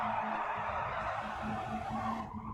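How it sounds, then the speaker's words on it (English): Tyres squeal in a sim racing game at the Alsace circuit, a sustained thin tone that holds over a continuous broadband engine and road roar, briefly fading near the end. "Tyres squealing."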